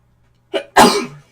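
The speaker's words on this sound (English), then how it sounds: "I'm going to sneeze, so hang on." A single sneeze up close: a short sharp intake followed by a loud explosive burst, then silence.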